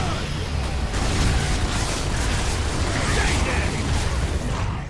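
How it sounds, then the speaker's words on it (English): Frag grenade blasts in the video game Gears of War: Judgment, heavy rumbling booms and debris that fill the whole stretch at a steady loud level, with a sharp onset near the start. "Frag grenades."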